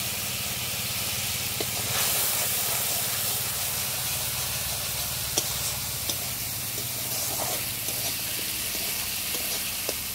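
Spices sizzling in a hot pan after water is added, a constant loud hiss of steam and frying with faint scattered stirring taps underneath.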